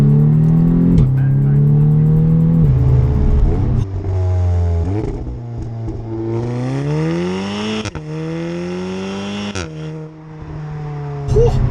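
A turbocharged Audi S3 8V engine revs up and down repeatedly, its exhaust rising to sharp blips and falling back to idle between bursts.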